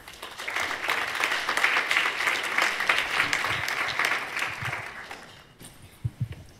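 Applause from an audience welcoming a presenter at a dental implant lecture, building quickly into steady clapping that fades after about five seconds, followed by a few close thumps and handling noises.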